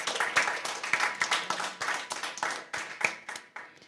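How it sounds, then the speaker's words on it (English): An audience claps for a contestant at a spelling competition; fairly close, uneven rhythmic handclaps from a modest group, loud at first and thinning out toward the end. "Yes, clap him."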